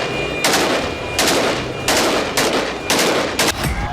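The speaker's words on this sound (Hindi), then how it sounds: "असद शासन पर बड़ी जीत का जश्न सीरियाई विद्रोही सड़कों पर खुलेआम AK-47 से गोलियां दागकर मना रहे हैं।" Celebratory AK-47 gunfire by Syrian rebels in city streets, five loud bursts of automatic fire spaced roughly evenly, each a sharp rattling volley close by with echoing street noise between them.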